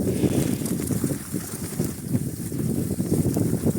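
Steady wind buffeting the microphone outdoors on a vegetable plot, a continuous low rumbling roar with gusty swells throughout and no voices.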